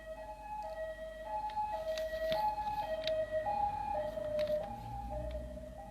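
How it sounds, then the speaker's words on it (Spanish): An ambulance siren wails in a steady two-tone pattern, fairly loud and continuous over low traffic rumble, as the vehicle passes. "Pasó una ambulancia a todo dar"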